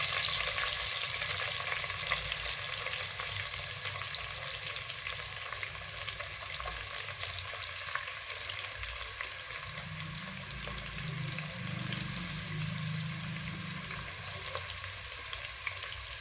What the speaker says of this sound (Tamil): இது நல்ல மெரூன் கலரில் வர்ற வரைக்கும் நல்லா வணக்கணும்